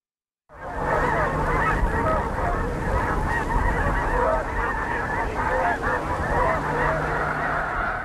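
A huge flock of snow geese honks in a dense, continuous cacophony at Missouri's Squaw Creek Wildlife Refuge, loud and sustained throughout after a brief silent start.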